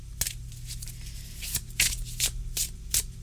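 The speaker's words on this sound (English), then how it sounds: "Let's do a couple more shuffles." Several quick riffle-shuffles of a tarot card deck, each a short papery burst, spaced irregularly over a steady low hum.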